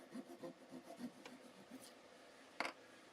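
Hand polishing on a bass guitar body during restoration produces soft, rhythmic rubbing strokes, faint and close, ending with a single sharper scrape.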